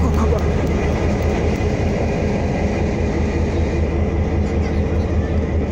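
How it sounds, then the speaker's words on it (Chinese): A diesel-hauled passenger train on Taiwan's South-Link Line, an R101 diesel-electric locomotive pulling three ordinary coaches from Fangliao to Taitung, roars past close by in a loud, steady rumble. "有列车要通过。"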